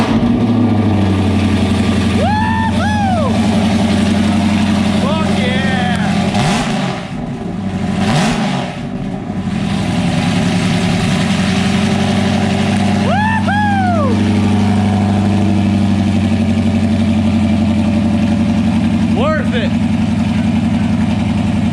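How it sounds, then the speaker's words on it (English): A Dodge Scat Pack V8 fitted with stainless long tube headers idles loud and close after a cold start, a steady deep rumble broken by occasional short revs, with a person's voice heard over the engine at times. "So we are going to send it out with a video of the scat pack cold start."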